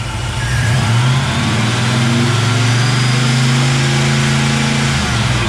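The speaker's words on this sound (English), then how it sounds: "Now I'll give it a slow and steady rev and we'll start to see what the timing curve is doing" A Ford 351 Cleveland V8 is revved slowly and steadily, its loud, close engine note rising smoothly from idle and holding high for several seconds with no talking.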